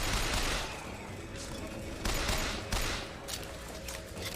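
Bursts of gunfire crackle in the BioShock Infinite video game, several rapid volleys at moderate distance, with quieter game sounds between them and no voices over the shots.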